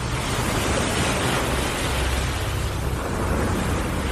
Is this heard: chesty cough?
no